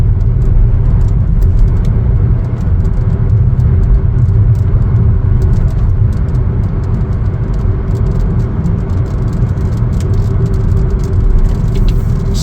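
A Chevrolet Trax Activ on the move, heard as a steady, loud low road-and-engine rumble that fills the cabin without a break, with a faint hiss of tyre and wind noise over it.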